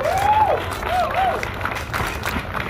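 Audience applause at a festival opening ceremony outdoors, a moderate spread of clapping from a crowd with a few cheers and whoops rising over it, steady for a few seconds.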